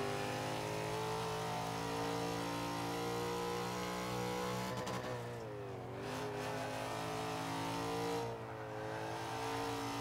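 Nissan GT-R R34 in the Forza 5 racing game, its engine revving hard and climbing through the gears with a steady loud drone, two brief dips where shifts interrupt the pull.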